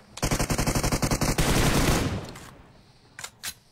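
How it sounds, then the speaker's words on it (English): Rapid automatic SKS rifle fire in an online shooter game, a burst of about fifteen sharp, evenly spaced shots followed by a fading echo and two quieter distant shots. "I didn't know an SKS has an automatic setting."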